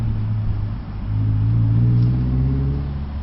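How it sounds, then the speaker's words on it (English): A 2012 Ford Focus SE with a manual gearbox revs hard, its engine note rising and swelling into a loud, sustained rumble with a slight dip near the start, with no one talking over it. "Oh, I love this engine."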